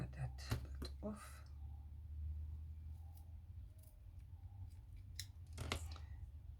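Scissors snip through small pieces of fabric for Barbie doll clothes, with a few quick, close cuts near the start and another burst toward the end, amid quiet room noise.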